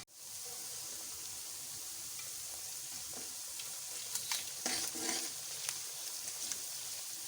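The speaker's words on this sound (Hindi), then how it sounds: "कुछ मसाले हैं जो हम प्याज में ऐड करेंगे। ज़ीरा, लौंग, तेज़पात, जावित्री और दालचीनी। अब हम ये उन प्याज में ऐड करने लगे हैं।" Whole cumin, cloves, bay leaf, mace and cinnamon frying in hot oil with onions, giving a steady close sizzle with a few sharper crackles and stirring scrapes partway through.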